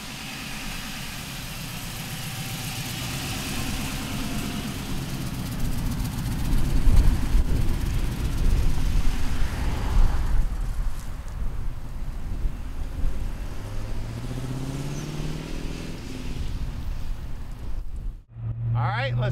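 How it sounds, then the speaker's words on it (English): A 1930 Ford street rod pickup with an LS engine idles steadily in a low rumble throughout, while a person talks over it nearby. "Let's take our little 30 street rod pickup truck for a ride."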